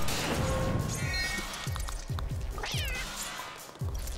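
A cartoon cat character in the co-op space shooter Lovers in a Dangerous Spacetime gives several meows over busy game effects, thumps and pops, with a player talking now and then.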